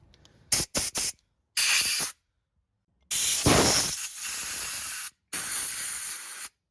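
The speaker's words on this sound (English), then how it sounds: "you have to have a good air compressor. This is 150 psi. We blow every little passage out multiple times." A 150 psi air compressor blasts compressed air through the passages of a brake caliper from a 1978 Datsun, loud hissing bursts: several short puffs, then longer sustained blasts separated by brief silences.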